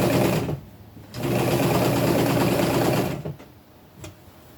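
A sewing machine runs in two bursts, stitching knit fabric while sewing up a tunic, with a steady whirring drone that pauses briefly and then resumes near and loud before stopping, followed by a few faint handling sounds.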